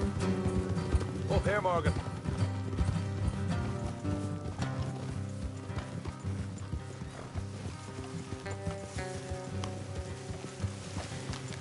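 Horses in the Red Dead Redemption 2 video game clip-clop along at a steady pace, mixed with game music and a brief whinny, while a man calls out over them.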